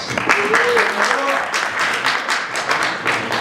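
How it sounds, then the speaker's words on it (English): Brief round of applause at a student senate debate session, moderate clapping from a room of people with a voice briefly audible at the start. "Please give him a round of applause"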